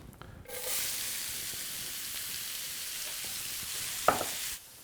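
Onions dropped into hot oil in a pan for Costa Brava tapas set off a steady, bright sizzle that starts abruptly and holds evenly for about four seconds, with a brief stir near the end before it cuts off.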